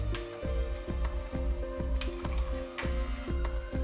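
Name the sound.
Canon MAXIFY printer closing its ink valve and turning off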